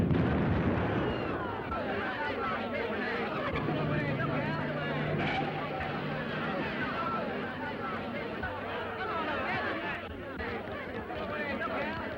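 Bomb blast in a classic film, heard as a sustained low roar and rumble of debris lasting many seconds, loud and dense, with faint voices under the noise.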